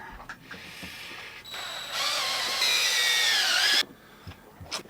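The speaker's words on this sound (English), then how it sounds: "we're going to take this motor apart, and we're going to unscrew it" Power driver backing screws out of a boat motor being taken apart for repair, a few short whirring bursts that climb into a louder, higher-pitched sustained whine close up before cutting off abruptly.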